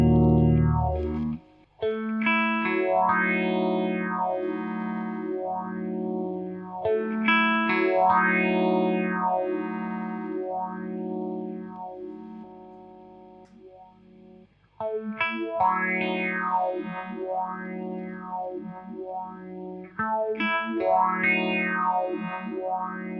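Electric guitar played through a Boss PH-1r phaser pedal, its sweeping whoosh rising and falling steadily over sustained chords, loud and close, with a short break near the middle before the sweep resumes.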